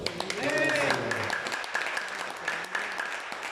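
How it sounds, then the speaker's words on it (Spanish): A church congregation clapping for the Lord during a Spanish-language sermon, steady broadband applause from many hands filling the room, with a voice speaking briefly at the start. "¿Cuánto le damos palmas al Señor?"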